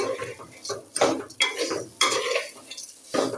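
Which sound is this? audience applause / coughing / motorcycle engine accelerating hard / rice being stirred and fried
rice being stirred and fried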